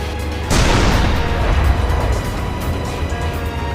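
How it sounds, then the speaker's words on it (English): A heavy booming blast bursts out suddenly in the video game Panzer Knight, then fades into a long rumbling roar of explosion and tank cannon fire. "Combine this with really good explosions and tank fire sounds"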